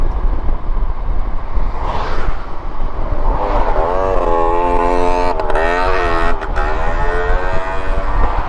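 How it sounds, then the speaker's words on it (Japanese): A motorcycle engine merges from the right on Nagano Prefectural Route 51, a straight road near Azumino with the Northern Alps in view, its rising, warbling drone building over steady close road and wind noise. "右から合流してきたバイクさんの音ですね。"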